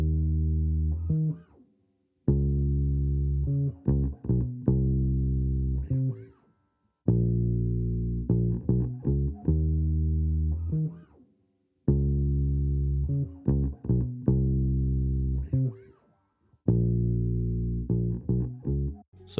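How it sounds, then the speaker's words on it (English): A live bass guitar line in a beat production: a simple repeated phrase of deep, plucked notes that comes back in cycles with short gaps between them, played alone and up front. "Moving on to the live bass that I played in, let's go ahead and take a listen."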